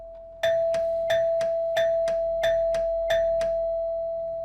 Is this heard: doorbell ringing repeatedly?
yes